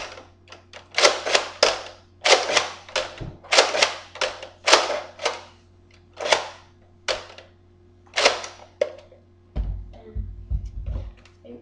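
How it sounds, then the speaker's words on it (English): A Nerf N-Strike Deploy CS-6 toy blaster clicks and snaps sharply as its top button is worked, giving a series of crisp plastic clacks in uneven bursts, followed by a few softer knocks near the end. "there's a little button on the top which deploys the gun"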